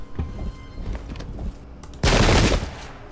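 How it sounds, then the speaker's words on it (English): Musket and cannon fire from units in the Pike and Shot strategy game: scattered pops, then a dense, loud burst of volley fire near the end. "I'm actually going to move one of my units up and open fire on the enemy."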